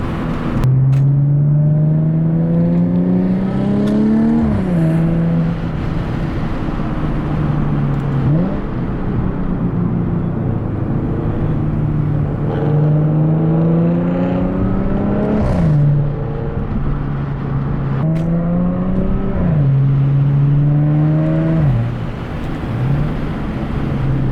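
A supercharged Audi S4 is driven hard from inside, its loud engine climbing through the revs in repeated surges with brief dips at each gear change, roughly four pulls over the span without any talk.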